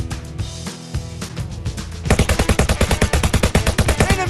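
Two .45 caliber revolvers blasting in a VR shooting game, a few scattered shots giving way to a dense, rapid barrage of loud, sharp reports with game sounds beneath.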